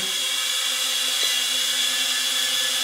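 A FLYHAL E69 mini camera drone hovers indoors, its small propellers giving a steady high-pitched whine that holds constant throughout, close and fairly loud with no speech.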